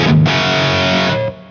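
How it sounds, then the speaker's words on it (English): A distorted electric guitar rings out in a sustained chord through a Universal Audio Pure Plate reverb, big and washy, then cuts off and the tail fades. "this is my favorite reverb that I use. It's the Universal Audio Pure Plate."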